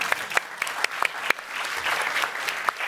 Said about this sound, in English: Can we clap that?